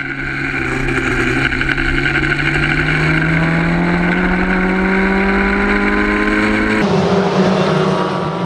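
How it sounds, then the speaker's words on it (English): Historic Formula Ford race cars run in a close train around Oulton Park, engines buzzing loud and rising in pitch as they accelerate, then dropping sharply as the pack passes and moves away. "there's Will Nuttall leading this train of cars through"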